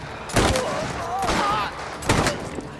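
Gunfire in the video game Mafia: The Old Country, several loud close gunshot blasts in irregular bursts amid a firefight, with voices shouting in between.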